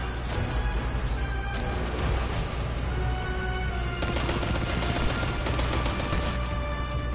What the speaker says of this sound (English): I'm getting shot up there too